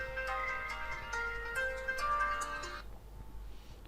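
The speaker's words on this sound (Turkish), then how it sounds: "telefon çalıyor bir dakika" A mobile phone ringtone plays a bright repeating melody for nearly three seconds, moderately loud and alone, then stops, leaving a faint room hum.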